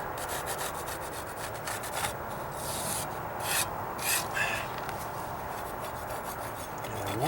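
A hand rasp files and contours the edge of a wooden deck stair, making a continuous scraping rub with short, quicker bursts of strokes, close and moderately loud.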